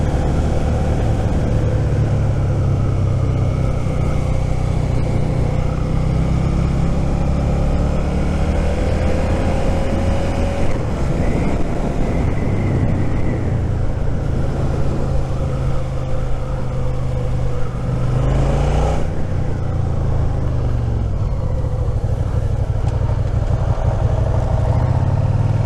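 Engine of a Suzuki SV650 motorcycle underway while scrubbing in new tyres, a steady loud low drone with wind rush throughout, swelling briefly around a gear change near the end, no talking.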